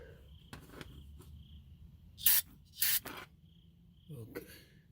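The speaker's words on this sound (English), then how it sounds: "I'm going to squirt a little brake cleaning fluid in the threaded hole here" Brake cleaning fluid sprays in two short, sharp hissing bursts into a threaded hole on a car's AC compressor, with faint handling noises and soft rustling around them.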